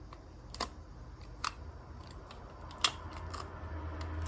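Tape is torn or cut while taping the corners of a handmade squishy, giving three or four short, sharp rips close up against a quiet background.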